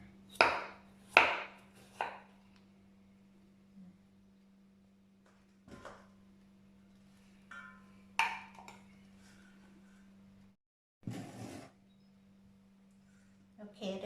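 Several sharp knife chops cut through a pumpkin on a kitchen board, spaced irregularly with long pauses between them, over a steady low hum and occasional clatter.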